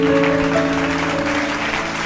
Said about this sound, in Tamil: கைத்தட்டுங்க ஒரு சீக்கிரத்தில்.